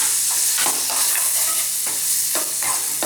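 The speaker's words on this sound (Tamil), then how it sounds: "இந்த பீட்ரூட்டை போட்டு நல்லா வதக்குங்க, நல்லா பச்சை வாசனை போக நல்லா வதக்கிடுவோம்." Beetroot sautéing in ghee in a pan, a steady close sizzle broken by repeated scraping strokes of a stirring spoon, loud and constant without any talking.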